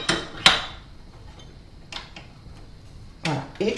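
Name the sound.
dough hook being attached to stand mixer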